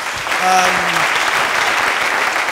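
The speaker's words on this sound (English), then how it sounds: "Please give him a round of applause." Audience applause at a youth nation-building speech, a dense, loud wash of clapping throughout, with a short voice briefly rising over it near the start.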